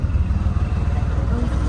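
Auto rickshaw engine running while riding through Mumbai streets, a loud, steady low putter with constant road rumble close by and no pause.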